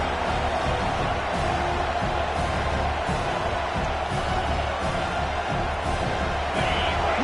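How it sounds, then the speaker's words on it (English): Simulated stadium crowd in a Madden football game, a steady roaring wash of fans with scattered cheers and whoops, loud and continuous throughout without letup. "Listen to the crowd energy here in the early going."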